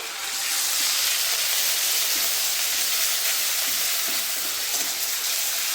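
Onion paste frying in hot oil for prawn malai curry gives a steady, loud bright sizzle and hiss, continuous and close, with faint stirring taps underneath.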